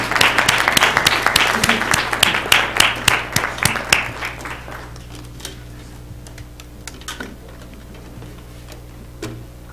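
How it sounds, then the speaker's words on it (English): A room at a school board meeting bursts into applause, dense clapping for the first few seconds that thins out to a few scattered claps and quiet room tone. "Let's give them another round of applause."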